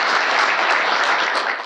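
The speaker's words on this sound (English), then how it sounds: "Applause to Stefan and to Eddie, please." An audience at an industrial networking presentation applauds steadily and fairly loudly for under two seconds, then the clapping tapers off.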